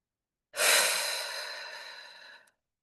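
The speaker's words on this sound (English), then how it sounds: "Another deep breath in. And one more deep breath in." One deep, slow breath, audible and close, swells quickly and then tapers off over about two seconds in a quiet setting.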